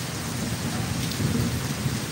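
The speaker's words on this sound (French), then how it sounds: "Cette pluie qui est en train de s'abattre actuellement," Heavy rain pours down steadily during a June 2020 flood in Côte d'Ivoire, a dense continuous hiss with low rumbling of thunder close by, with no voices.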